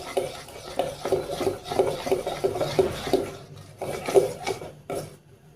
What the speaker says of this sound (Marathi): आता हे मिश्रण आपण थोडं फेटून घेऊ.